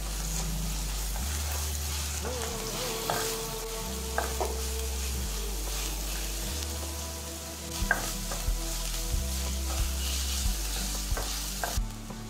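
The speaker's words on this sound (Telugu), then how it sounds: "ఈ ఉల్లిపాయ ముద్ద కూడా పచ్చివాసన పోయే వరకు వేపుకోవాలి" Onion paste frying in a pan for a milk fish curry, a steady sizzle with repeated stirring scrapes and occasional clinks of a utensil against the pan, close and continuous with no talk.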